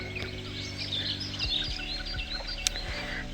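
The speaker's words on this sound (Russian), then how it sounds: "Ой, как птички поют, я не могу." Small birds sing and chirp outdoors at a countryside garden plot after rain, a continuous chorus of bright twittering calls at moderate distance over a low steady hum, with no talking.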